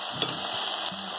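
Mixed vegetables for Rushichi bhaji frying in hot tempering, a steady close sizzle with faint scraping knocks from stirring, no voices.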